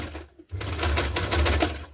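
A sewing machine stitches through the pages of a hardcover junk journal, starting after a short pause and then running in a steady, loud mechanical rattle up close, with no voices.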